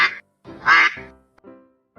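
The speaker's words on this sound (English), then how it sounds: "Mother duck." A duck quacks several times up close, loud nasal calls with short pauses between them.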